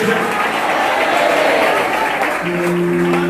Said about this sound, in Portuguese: agora eu quero ouvir mais uma forte salva de palmas misturada com glória a Deus